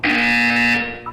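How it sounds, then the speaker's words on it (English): A Portal 2 test-chamber buzzer gives one loud, steady electronic tone lasting under a second, then cuts off abruptly, leaving a brief trailing hum. "When you hear the buzzer, look down at the floor."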